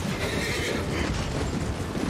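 Horse whinnying in the video game Elden Ring, a loud, steady neigh sustained through the short stretch amid dense game noise, with no talking.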